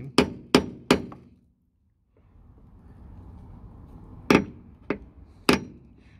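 A hammer strikes a damaged, rusty sill on a Toyota Alphard/Vellfire: three sharp metallic blows in quick succession, a pause with faint low rumble, then three more ringing hits, loud and close.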